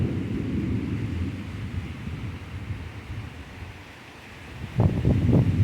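Severe thunderstorm wind with rain roars and buffets close against the microphone, easing off for a moment before a strong gust surges back near the end.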